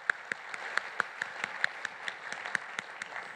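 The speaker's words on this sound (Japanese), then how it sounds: "皆さん拍手でお迎えください。" Audience at the Porter Prize 2014 competitiveness conference applauds as a company executive is called up to the stage, with sharp individual claps standing out over a steady, moderately distant patter of clapping.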